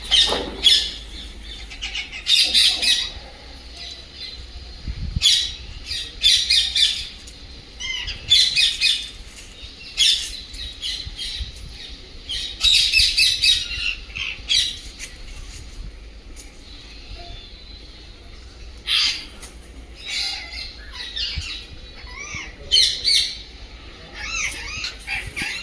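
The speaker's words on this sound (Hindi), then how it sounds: "पक्षियों का कलरव सुनने को मिल रहा है।" Birds chirp and squawk in repeated loud bursts at Bhandir Van, a forest grove where peacocks are about. The calls are close and continue through a steady outdoor background, with no talking.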